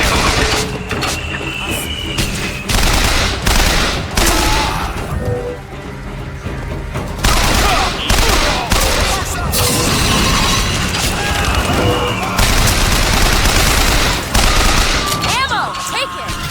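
In the BioShock Infinite video game, a flak cannon fires in loud, rapid bursts of blasts with shattering impacts and explosions, repeated throughout a hectic firefight while character voices shout over the combat.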